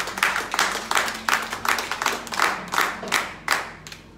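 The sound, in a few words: congregation applauding in church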